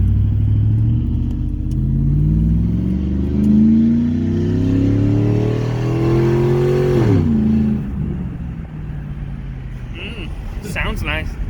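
A Chevrolet Silverado fitted with a cold air intake starts and idles loudly up close, the engine rumble swelling and then dropping, with a voice speaking briefly near the end.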